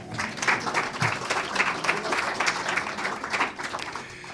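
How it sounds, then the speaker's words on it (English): An audience at a book launch applauds, with a steady round of close clapping that swells and fades unevenly over several seconds. "will you give me another round of applause?"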